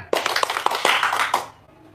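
Brief burst of clapping from an audience at a religious gathering, sharp irregular claps rising suddenly and fading out after about a second and a half, close and fairly loud.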